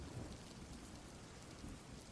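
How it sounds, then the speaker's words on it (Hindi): Rain falls steadily and softly as a quiet, even hiss of drops on surfaces, with a faint low rumble of thunder underneath and no voices. "बारिश हो रही है"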